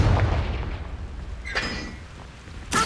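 A Confringo explosion spell cast in the Hogwarts Legacy video game, a deep boom with rumbling decay, then a sharp burst and a second impact near the end, loud with no talk.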